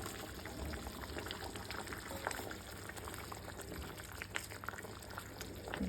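Mochai bean kulambu with vegetables and a little dried fish bubbles steadily in a pot, a faint, continuous simmering hiss with soft pops throughout.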